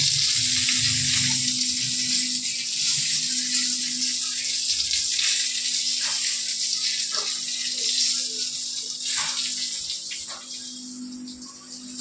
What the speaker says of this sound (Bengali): পটলটা আমার প্রায় ভাজা হয়ে গেছে